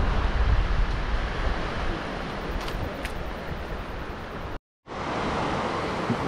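Fast-flowing river rapids near Taupo, New Zealand: a loud, constant broadband rush of turbulent water that cuts out briefly near the end and then returns.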